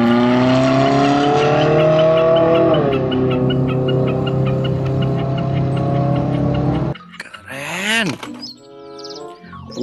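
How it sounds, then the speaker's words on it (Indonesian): A toy race car engine revving in a steady droning whine that sinks slightly in pitch, then breaks off into sweeping, warbling synthetic sound effects, loud and close. "Wah, mobil balap."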